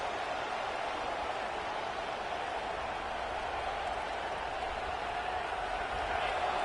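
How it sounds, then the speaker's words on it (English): A packed home crowd in a college football stadium roars in a steady, broad wash of noise that holds at a constant level throughout, with faint commentary voices mixed underneath. "Listen to this crowd just shaking the girders of this place, trying to help their defense."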